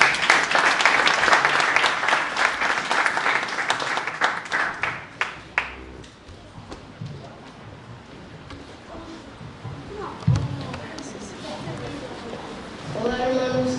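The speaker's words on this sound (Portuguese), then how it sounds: "Um aplauso para Jesus, irmãos." A church congregation claps loudly for a few seconds, then the applause thins and fades while voices and room murmur take over, with a brief burst of sound near the end.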